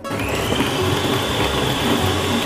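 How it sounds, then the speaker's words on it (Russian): A kitchen blender grinds a piece of bread into breadcrumbs, a loud steady motor whir with a constant high whine and churning rattle throughout. "Возьмем кусочек хлеба и просто измельчим его в блендере."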